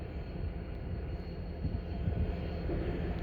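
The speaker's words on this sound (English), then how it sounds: "it looks like there's a train, possibly a CN freight, coming through Pointe St.Charles yard." A CN freight train rumbles through Pointe St. Charles yard in Montreal at dusk, a steady low rolling roar at a distance, continuous with no voices.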